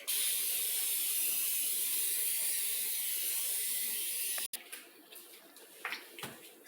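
A can of cooking oil spray hisses loudly for about four seconds and cuts off abruptly, followed by a few faint clicks and rustles.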